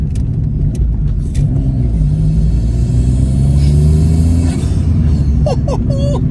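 A custom car in Sendai, Japan, revs its engine close by, a loud throaty drone with rising pitch sweeps, while people talk briefly near the end.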